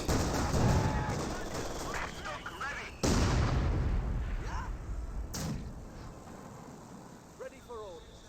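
Gunfire and mortar fire from the strategy video game Company of Heroes 2 sound as scattered sharp shots and a few heavier bangs, moderately loud, beneath continuous commentary by a voice.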